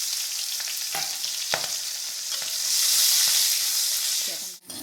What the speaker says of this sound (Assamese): এয়া পিঁয়াজ আৰু জলকীয়া দি দিছোঁ।